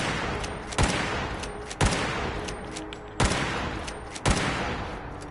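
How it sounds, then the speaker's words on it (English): A lever-action rifle in Fallout 4 fires four loud, booming shots at uneven intervals, each with a short echoing tail, and no talking. "this rifle can be difficult to use. You get 5 shots out of it, and then it does take a bit to load"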